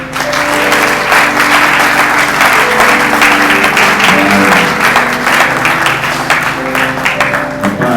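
A church congregation applauds loudly and continuously to welcome pastor Max, steady dense clapping from many hands with a faint musical tone underneath.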